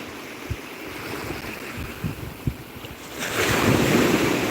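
Waves break and wash along a beach under gusting wind noise, with a few soft thumps early and a louder surge of surf rushing in near the end.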